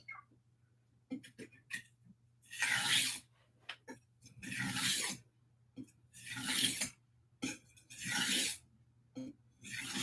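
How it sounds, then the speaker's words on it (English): A stainless steel kitchen knife strokes repeatedly across a whetstone under firm pressure, giving rhythmic, gritty scraping passes about every two seconds with small taps and quiet gaps between them. "I need to be giving a good amount of pressure and a good amount of reps on this whetstone"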